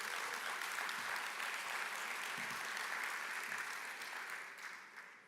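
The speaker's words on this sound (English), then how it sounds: "Round of applause again for Diane." A business conference audience in Jamaica applauds, a thick, even wash of clapping from a large crowd that holds steady for about four seconds and then slowly fades.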